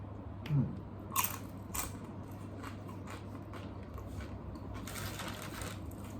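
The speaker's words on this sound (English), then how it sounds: "I think I'll add one of my chips and I'll try eating it this way" Crisp bites of a tortilla chip eaten with a burrito bowl, a few sharp close crunches early on followed by softer chewing, quiet and without talk.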